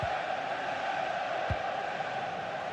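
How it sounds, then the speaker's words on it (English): Stadium crowd noise in the FC 25 football game during a Liverpool vs. Chelsea Premier League match, a steady dense roar of many voices, moderately loud and sustained throughout with a couple of low thumps. "The crowd certainly think so. Just listen to that noise."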